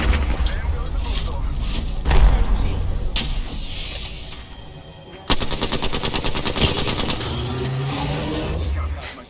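Sustained automatic gunfire in the battle royale game Apex Legends, a dense rapid rattle that stops briefly and then resumes louder, with a player talking over it.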